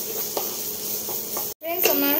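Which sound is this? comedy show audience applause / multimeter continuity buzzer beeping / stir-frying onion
stir-frying onion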